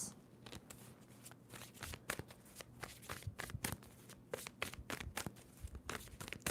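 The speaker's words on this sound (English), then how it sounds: "Two more shuffles for Gemini." A tarot card deck is shuffled by hand, with quiet, crisp papery riffles and slides coming in uneven bursts over several seconds and no talking.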